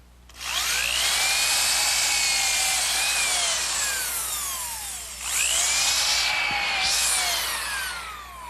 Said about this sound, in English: the first thing I'm going to do is pre-drill a hole using this bit, which gives me a countersink for the screw heads